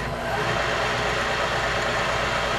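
Wells Index 823 CNC mill spindle running at 1,000 RPM on three-phase power, a loud steady mechanical whirring drone with a constant hum and no change in pitch, close and continuous, with no talking.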